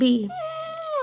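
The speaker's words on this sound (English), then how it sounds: "That's just a dog." Toby the dog lets out a brief, high, wavering whimper under a person's speech, close by and lasting about a second.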